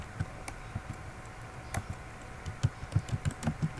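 Computer keyboard typing while entering data into an Excel VBA user form: a run of close, crisp key clicks, sparse at first and then quicker and more regular toward the end, with no talking.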